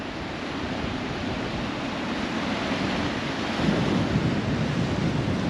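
Strong coastal wind at Fowlers Bay, South Australia, buffets the microphone in a constant low rumble and roar, growing a little louder toward the end, with no talking.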